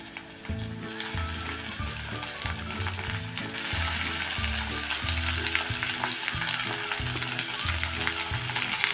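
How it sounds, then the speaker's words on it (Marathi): Onion and tomatoes fry in a pan for South Indian tomato chutney, a steady close sizzle running throughout, overlaid by a repeating low rhythmic pattern, likely background music. "टोमॅटो पण चांगला मग होईपर्यंत परतून घ्यायचं आहे"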